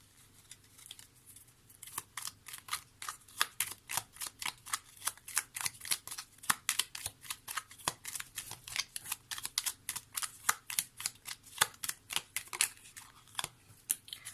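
Lenormand cards being drawn and handled for a reading, giving a long run of sharp, close, fairly quiet flicks and snaps at a brisk, uneven rhythm, with no one speaking.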